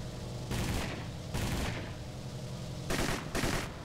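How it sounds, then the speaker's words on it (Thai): Bursts of rapid side turret machine gun fire from an SM-79 bomber in the video game War Thunder, in short volleys, loud and close, with a steady rumbling background between bursts. "เสียงปืนด้านข้างจะค่อนข้างแปลกประหลาดหน่อยนะครับ ประมาณเนี้ย"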